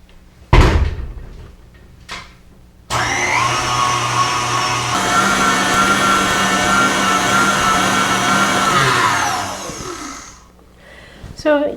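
An electric mixer beats shea butter for homemade body butter, starting abruptly after a couple of knocks and running as a loud, steady whir for about seven seconds before winding down.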